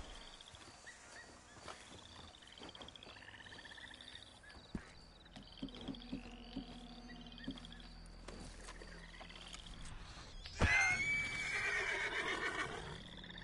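A horse in the video game Red Dead Online gives a single whinnying neigh near the end, rising over quiet in-game ambience and scattered electronic tones.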